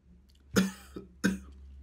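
Two sharp, throaty coughs a little under a second apart, close and fairly loud, set off by the smell of spicy Korean noodles, with a quiet background between them.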